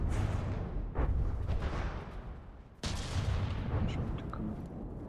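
C-RAM guns in a video game fire shells in heavy, booming volleys, loud and fairly close, with a sharp new burst partway through. Talk can be heard in the background.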